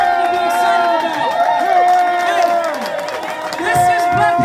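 Crowd at a state's attorney office opening in Bronzeville claps and cheers, a steady close wash of applause with whoops rising over it for several seconds.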